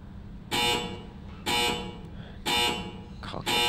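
A shot clock buzzer at a professional pool match sounds in four harsh, loud blasts, each lasting about half a second and repeating roughly once a second.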